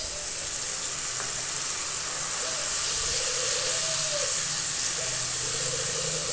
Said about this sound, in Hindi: आप इसका सिजलिंग साउंड सुन सकते हैं